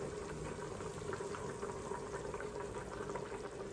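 A pot of potato and carrot soup simmers on the stove, giving a soft, steady bubbling hiss that stays faint and even throughout, with no voices.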